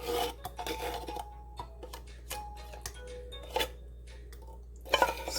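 Spoon or spatula scraping condensed milk from a metal tin into a blender for homemade Jamaican peanut punch, giving irregular close rasping scrapes and light metallic clicks with a couple of louder knocks near the end.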